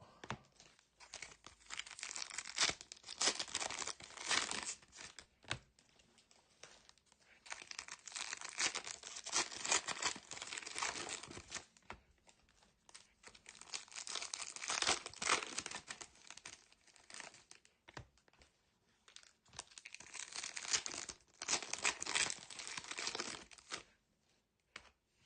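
Trading card packs are ripped open one after another during a late-night break, long bursts of crinkling foil wrapper and tearing separated by brief quiet gaps, close and fairly loud.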